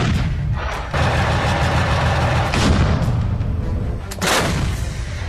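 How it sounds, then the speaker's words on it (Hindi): A Russian 2S7 Pion self-propelled artillery gun firing in the Ukraine war, heavy booming blasts with rumbling tails, three or four loud close shots spaced about a second apart. "परमाणु बम गिराने वाली रूस की ये तोप कैसे आग उगलती है, इसे देख लीजिए।"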